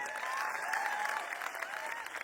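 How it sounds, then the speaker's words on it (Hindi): An audience at a large gathering in Pune breaks into applause, a steady, fairly distant wash of many hands clapping with no talk over it. "ताली तो बजा दो, और क्या करें"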